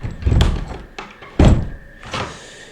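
The attic door of an abandoned building creaks and knocks, giving a series of heavy wooden thuds and bumps, some loud and sharp, others duller, spaced unevenly over a few seconds with no speech.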